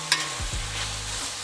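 Peanuts tipped into a sizzling geoduck stir fry, a short clatter and scrape over continuous frying hiss, close, with a low rumble of the stove underneath and no speech.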